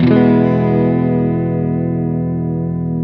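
A single sustained electric guitar chord rings out through a KOKKO vibrato pedal at its slowest rate with the depth raised, decaying slowly with a gentle pitch waver.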